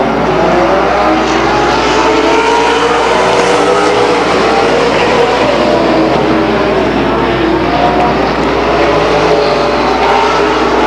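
Race car engines roar continuously at Stockton 99 Speedway as a driver recovers from a spin on the front stretch, a loud dense wash of motor noise with no gaps.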